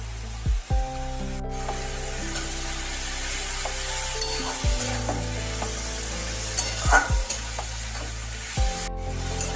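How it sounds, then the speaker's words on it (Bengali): Red amaranth greens being stirred in a pan with sugarcane jaggery, with a soft steady sizzle beneath repeated scraping, rubbing strokes of a spoon against the pan at an irregular pace and no talking. "আখের গুড় দেওয়ার পর ভালোভাবে শাকের সাথে মিশিয়ে নিয়ে নেড়ে নিতে হবে।"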